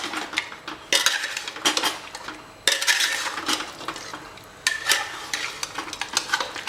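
Marinated mutton is stirred in a metal pot, giving repeated clinking and scraping spoon strokes in uneven bursts with brief pauses. Close and clear, with no talking.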